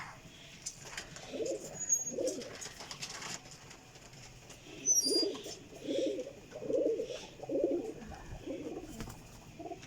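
Pigeons coo in soft, throaty bursts, several clustered calls repeating through the stretch at moderate distance, with faint background ambience and no talking.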